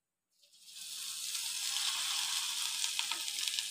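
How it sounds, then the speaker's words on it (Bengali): Coated food is dropped into hot oil, and a sudden hissing sizzle rises from silence and settles into a steady, close frying crackle. "এটাকে সুন্দর করে মাখিয়ে নিয়ে এই যে তেলে ছাড়বো"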